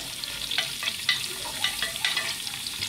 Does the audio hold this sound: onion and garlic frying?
yes